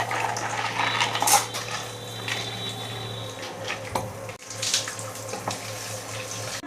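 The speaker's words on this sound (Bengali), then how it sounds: "চাউমিনের জলটা ঝরিয়ে নিলাম, গরম হয়ে গেছে।" Hot water from boiled chow mein noodles pours off in a steady rushing splash, close and fairly loud, with light clinks of a pot and utensils and a brief pause before the flow resumes.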